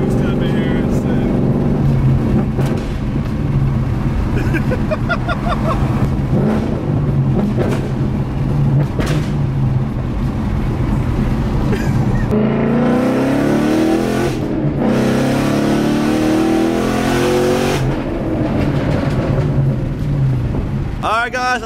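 A Ford Mustang GT's engine revs hard and crackles on two-step launch control, a loud, continuous roar with rising and bouncing pitch, while someone talks over it at times.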